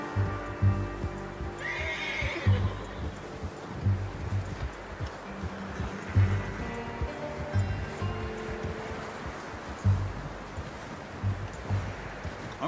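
A horse at a camp in Red Dead Redemption 2 neighs and whinnies close by, with rhythmic clip-clop of hooves and snorting over a soft outdoor ambience of rustling and wind.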